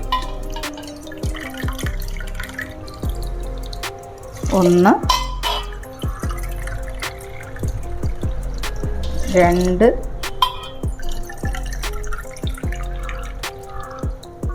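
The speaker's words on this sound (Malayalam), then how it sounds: "ഇനി നമുക്ക് നമുക്ക് വെള്ളം ഒഴിക്കാം" Water is poured from a cup into a pressure cooker holding washed chana dal in two distinct pours, each with a rising gurgling fill, while a person speaks briefly nearby and dishes clink.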